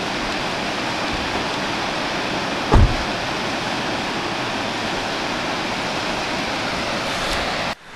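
Green Peak Waterfall near a logging road in Oregon rushes steadily, a loud constant broadband roar of falling water with a brief bump near the middle before it cuts off.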